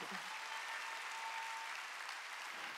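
Steady applause from a church congregation during a sermon, a dense even wash of clapping from start to finish with a brief louder burst right at the end.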